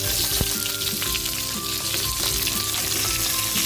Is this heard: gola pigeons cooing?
no